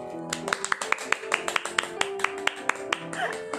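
Scattered hand claps ring out during a live stream, a sparse, uneven patter of individual claps over faint background sound rather than a full crowd.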